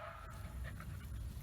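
A dog holding a ball barks close by during a training session, with short yips and woofs partly buried in steady background noise.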